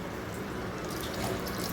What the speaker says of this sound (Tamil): இன்னும் துளியூண்டு தண்ணி விட்டுருவோம்